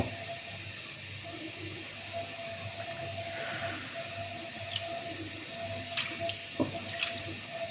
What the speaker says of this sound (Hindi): ये देखिए, इसमें उबाल आ रहा है।